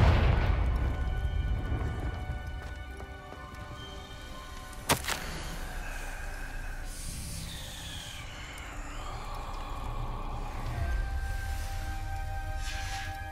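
The Confringo spell in Hogwarts Legacy lands as one sharp, loud blast partway through, amid rumbling magical effects and a busy ambient game backdrop.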